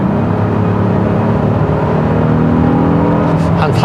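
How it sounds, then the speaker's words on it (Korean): A 2025 Honda Odyssey 3.5 V6 Elite minivan at full throttle, its engine climbing to high revs with a loud, sustained droning whir heard from inside the cabin. "한 4000rpm 이상은 돼야지 엔진 소리가 좀 더 크게 들어오고"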